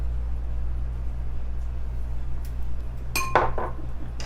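Sugar, milk and cocoa powder stirred together in a pot for no-bake cookies: a quiet low hum, then a short burst of utensil clinks and scraping against the metal near the end.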